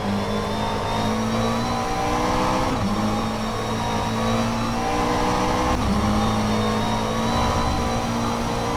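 A GT3 race car laps Mugello in rFactor 2, its engine loud and close as it revs steadily upward through the gears, with two clear shift dips breaking the rising whine.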